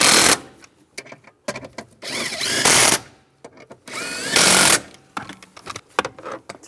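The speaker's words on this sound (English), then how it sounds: "Get the bolts started. And we'll tighten those down." Bolts being run down on a 2007-2013 Chevrolet Silverado antenna base with a power tool, heard as loud, close bursts of whirring and ratcheting broken by short pauses and small clicks.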